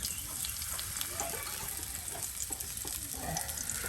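Batter fritters frying in hot oil, a steady soft sizzle and bubbling hiss running throughout at moderate distance, with no one talking.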